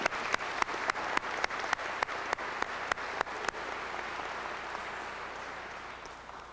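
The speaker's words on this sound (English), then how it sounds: "Would you join me in giving these folks a round of applause?" Audience applause at a 2002 ECOT high school graduation ceremony, beginning with sharp, evenly spaced claps and settling into a steady, fading wash of clapping from a crowd in a large hall.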